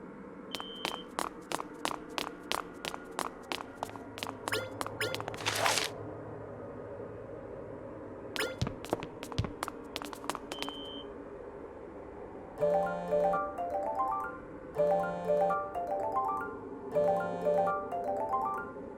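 A phone rings inside the video game Monark, sounding as a repeating electronic ringtone in three bursts near the end, after earlier clicks and beeps over a low ambient game background.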